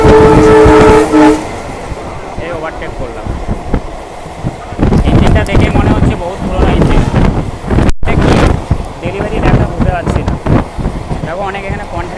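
Local train running fast from Barddhaman toward Howrah in India, with steady rumbling wheel and carriage noise, a horn-like tone at the start, wind buffeting the microphone and people talking over the din.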